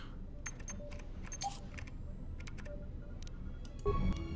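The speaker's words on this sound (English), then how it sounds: "That sounds like an old school typing keyboard" Old-style keyboard typing at a computer terminal in Knights of the Old Republic 2, faint irregular clicking keystrokes over a low hum, with a brief louder electronic beep near the end.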